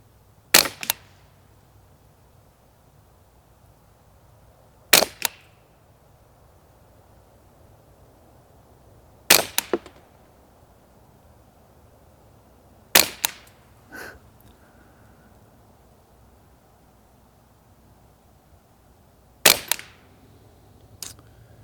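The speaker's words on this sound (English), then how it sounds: "we can put a couple of rounds on the 50-yard target" Five rifle shots fired at a 50-yard target at night, each a sharp loud crack with a short echo, spaced several seconds apart with quiet between.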